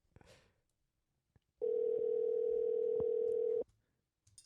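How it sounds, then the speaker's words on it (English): A telephone ringback tone sounds on an outgoing call, one steady electronic tone lasting about two seconds, set between faint clicks and near silence. "It is ringing."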